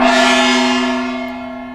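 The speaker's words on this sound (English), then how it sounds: "he wants you to ring that bell" A single bell struck once rings out loud and clear, its steady tones slowly decaying over nearly two seconds with no talking.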